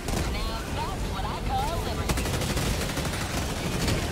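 Dense rapid gunfire and heavy blasts rattle continuously in a Helldivers 2 firefight against a Hulk, loud and close, with players talking over the shooting.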